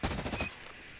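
Rapid automatic fire from an M16 assault rifle in Call of Duty Mobile, a quick burst of evenly spaced shots that cuts off after about half a second, leaving a faint tail.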